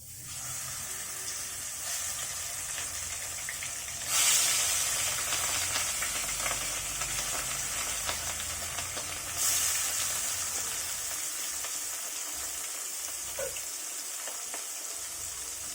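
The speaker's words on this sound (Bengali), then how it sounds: "মাছগুলো মেরিনেট করা হয়ে গেছে এখন এগুলোকে এক এক করে তেলের ভিতরে দিয়ে দিচ্ছি" Marinated rohu fish pieces sizzle steadily in hot oil, a close, even frying hiss with a couple of brief louder spits as pieces go in, no voices.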